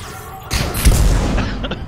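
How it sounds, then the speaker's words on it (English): A grenade detonates in Mass Effect 3 combat, one heavy close boom with a deep low-end thump and a crackling tail that quickly fades. "He just hit you in the head with that grenade."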